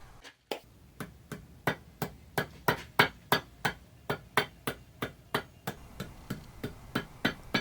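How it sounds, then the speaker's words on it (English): A hammer tapping along a cast-iron surface plate made for a mini lathe grinding fixture, about twenty sharp evenly spaced knocks in a steady rhythm, close and clear with no talk, some strikes sounding duller and more hollow. "Those hollow sounds on the ends indicate there's a bit of a gap on the ends."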